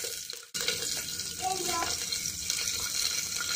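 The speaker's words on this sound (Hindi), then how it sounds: "अब मैं इसमें ये सब्जियाँ डाल के इसे अच्छे से फ्राई कर ले रही हूँ।" Vegetables drop into hot oil in a pressure cooker and fry with a loud, continuous sizzle right after a brief quiet moment, with faint clatter and a voice in the background.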